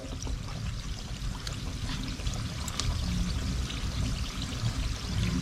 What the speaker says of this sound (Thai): พอน้ำมันเริ่มร้อนนะครับ เราก็ลงปอกเปียะไปเลยนะครับ ใช้น้ำมันอุณหภูมิต่ำเลยนะครับ